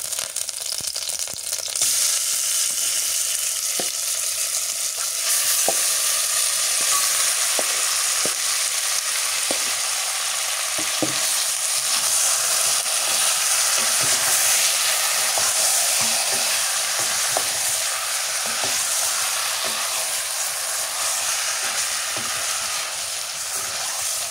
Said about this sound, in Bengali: এবার মাংস দিয়ে দিই।